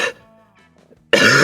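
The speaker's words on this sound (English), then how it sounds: "half just me having a bad cough" A single harsh, close cough bursts out loudly after a quiet moment, cutting through faint background sound.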